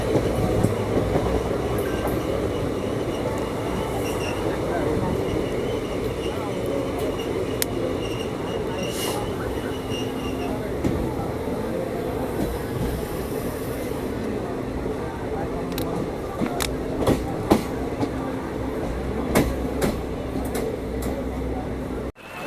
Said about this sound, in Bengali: আবার আমাদের ট্রেন দাঁড়িয়ে পড়েছে রাজগ্রাম স্টেশনে স্লো হচ্ছে ধীরে ধীরে